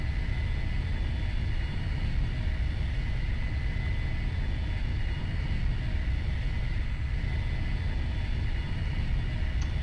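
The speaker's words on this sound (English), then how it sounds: "I am taxiing at 5." Light aircraft taxiing on the ground ahead of a formation takeoff, a steady, continuous engine rumble at close range with no pauses, alone without talk.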